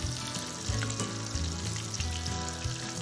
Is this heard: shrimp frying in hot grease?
yes